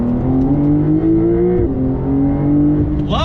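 A 2021 Porsche 911 engine pulls hard and steadily, its rising tone dipping briefly with a shift before climbing again, loud and close from inside the cabin.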